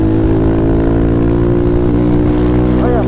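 A Honda CG 150 Sport motorcycle with a badly out-of-tune carburetor idles and runs loud and close, a steady low engine drone throughout, with a voice speaking briefly near the end.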